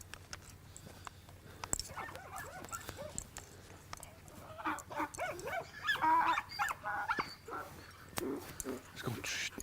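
Herding dogs working donkeys on a donkey rescue outfit bark in short, scattered bursts, with a busier cluster of barks and yips near the middle, over faint outdoor background noise.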